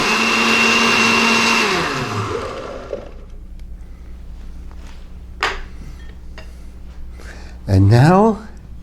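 A kitchen blender whirs loudly as it purees blueberries for ice cream, running steadily for about two seconds before winding down. After it stops, a few quiet clinks and a brief voice follow.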